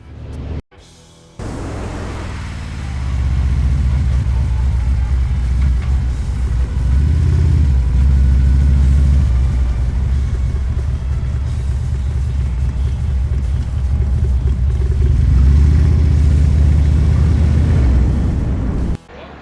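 A 26-inch-wheel Harley-Davidson Road Glide motorcycle out on a group ride with two other bikes gives a steady, loud low engine rumble that holds for nearly the whole stretch after a short quiet start.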